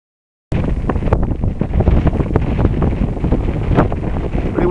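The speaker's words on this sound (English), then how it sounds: "Pretty windy" Strong wind buffets the microphone on a hike near Mount Adams, a loud continuous roar with gusty rumbling that starts abruptly and runs on with no voices.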